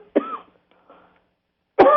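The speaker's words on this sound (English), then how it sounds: "I have a cough." A caller on a live stream coughs sharply, one harsh burst then a quieter follow-up, and another loud cough at the end, close to the microphone.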